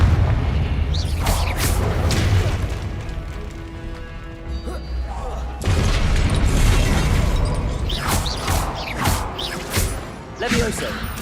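Confringo spell explosions in the video game Hogwarts Legacy: a string of booming blasts and bursting pops, some sharp and some rumbling, over a continuous game score, while a voice speaks between the casts.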